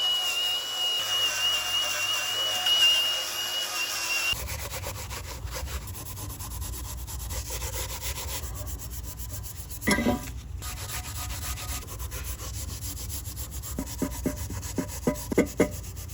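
Coarse-grit sandpaper rubbing over a van's interior surfaces, a steady scratchy rasp that runs on continuously, with a few brief louder scuffs and knocks near the end.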